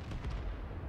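A tank cannon firing in the video game World of Tanks, a single heavy low boom with a rumbling tail lasting under a second, loud and close, with no talking.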